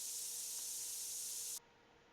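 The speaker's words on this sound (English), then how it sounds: "you just spray them until they're nice and sparkly clean" In the TCG Card Shop Sim video game, trading cards are spray-cleaned with one steady, bright, close hiss lasting about a second and a half before it cuts off abruptly. No one talks.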